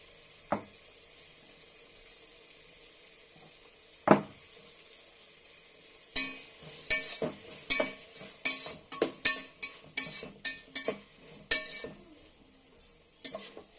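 Fresh ginger-garlic paste frying in a pan, a faint sizzle under a run of sharp scraping and clattering strokes from stirring against the pan.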